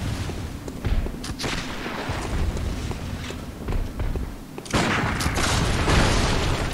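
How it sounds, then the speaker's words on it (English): Gunshots ring out in a misty video game fight, with several sharp reports scattered over a rumbling, footstep-filled background that swells louder toward the end. "Oh shit, gunshot."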